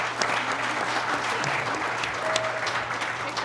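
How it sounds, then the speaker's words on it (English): Sustained audience applause for quiz contestants at a school quiz game, a dense steady patter of many clapping hands filling the room, with faint voices mixed in beneath. "So one more round of applause for them."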